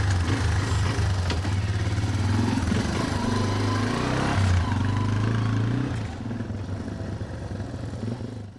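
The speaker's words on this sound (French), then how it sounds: "Principal outil de travail de José Tomás, la moto." A motorcycle used as a work vehicle by a rural microfinance loan officer, its engine chugging at a low, steady idle-like rumble nearby, then easing off and fading slightly toward the end.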